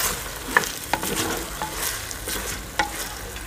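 Potatoes and spring onions stirred and frying in a pan for a village-style sabzi, a steady close sizzle broken by a few sharp scrapes and clicks of the spoon, no voices.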